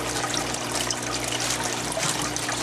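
Water splashes and trickles steadily as it is scooped into a plastic bag holding a newly bought fish. The rushing, close sound stays even throughout.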